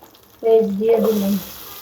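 Onions drop into hot oil in a pan while eggplant and prawns are being cooked, setting off a sudden sizzling burst that holds for about a second before fading down.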